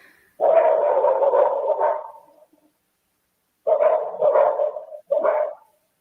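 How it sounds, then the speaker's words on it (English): Murphy the dog barks in bursts: a long run of rapid barks, a pause, then a few more quick barks, heard fairly close in quiet surroundings. "Murphy is still barking."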